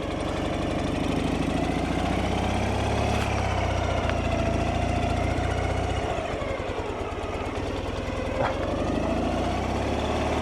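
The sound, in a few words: car engine idling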